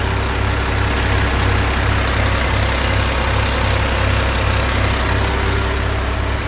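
A 2009 Mack MRU613 40-yard garbage truck engine idles steadily and loud, a continuous low diesel rumble with a faint high whine, unbroken and without talk.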